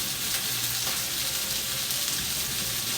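Pork or chicken frying in a pan gives a steady, close sizzle that holds even and continuous throughout, with no talking.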